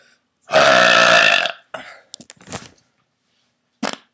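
A loud, long burp lasting about a second, close and resonant, followed by a few short throaty sounds and, after a pause, one brief final grunt.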